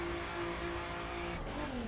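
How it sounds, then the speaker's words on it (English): A Nissan GT-R R35 in the racing game The Crew spins its wheels while accelerating, a steady loud engine drone with a rising pitch sweep near the end, no talking. "Wheel spin still about 80 kilometers an hour."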